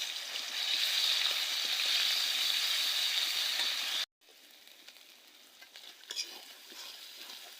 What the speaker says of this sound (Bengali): পেঁয়াজ বাটা দিয়ে দিচ্ছি, আর দেবো রসুন বাটা, আর হচ্ছে জিরে বাটা। একটু ভালো করে তেলে ভেজে নেব।